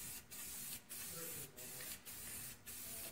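Black spray paint goes onto a car rim in short, close bursts of hiss, about five starts and stops separated by brief gaps.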